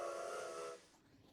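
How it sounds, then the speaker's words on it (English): A steam train whistle in a video game sounds one loud, sustained harmonic blast that cuts off abruptly, leaving a faint hiss. "So that's the train?"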